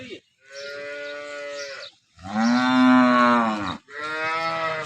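Three long, resonant moos from local dairy cows in Banaskantha nearby, one after another with brief gaps. The middle call is the deepest and loudest.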